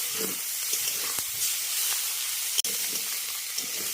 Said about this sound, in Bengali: দেখুন মাছ কিন্তু কড়াইয়ের গায়ে ভেজে দিচ্ছি